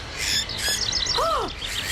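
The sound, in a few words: aggressive birds squawking in the video game Syberia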